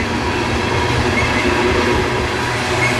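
A heavy coal train with two engines at the front and one in the center rumbles steadily past on the rails in West Virginia, loud and close, with a continuous low roar and metallic rattle throughout.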